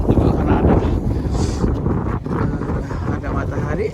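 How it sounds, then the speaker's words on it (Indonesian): Strong gusting wind buffets the microphone on a mountain summit trail on Mount Rinjani, a continuous loud roar with low rumbling bursts and no clear speech. "Kalau sekarang angin sudah agak berkurang nih"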